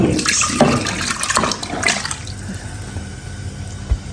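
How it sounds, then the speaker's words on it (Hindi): Water poured into a cooking pot for an aloo gosht curry, a brief splashing gush loudest in the first two seconds, then trailing into faint dribbles and quiet kitchen noise. "और इसमें मैं ऐड करूँगी पानी"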